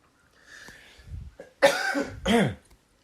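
A person coughs twice, harsh and close, after a short stretch of faint breathing and throat sounds.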